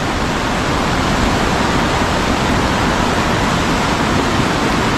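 Loud, steady roar of rushing floodwater in a swollen provincial river during heavy rain, a dense continuous wash with no pauses, close and filling the whole scene.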